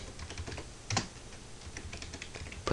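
Rapid clicking of keys on a computer keyboard as a terminal command is typed, close and steady over a few seconds, with a couple of louder key strikes and a faint background hiss.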